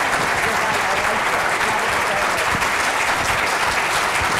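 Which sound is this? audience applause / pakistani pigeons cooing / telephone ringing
audience applause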